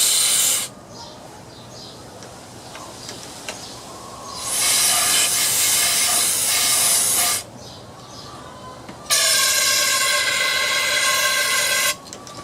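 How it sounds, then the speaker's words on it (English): Two long, loud hissing bursts of carburetor cleaner aerosol sprayed into a Troy-Bilt lawn mower engine, several seconds each, separated by a quieter pause, close up. "I'm going to spray some carburetor cleaner down in there."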